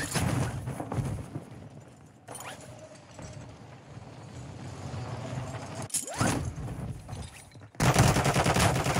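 Gunfire in a shooter video game: sharp shots and short bursts spread over several seconds, ending in a loud, dense stretch of rapid fire.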